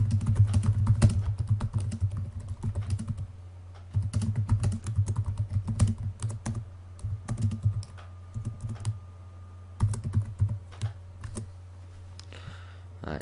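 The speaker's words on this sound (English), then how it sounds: "So let's just go ahead and start typing them." Rapid bursts of typing on a computer keyboard while entering quiz questions, close and steady, pausing briefly between runs of keystrokes with no talking.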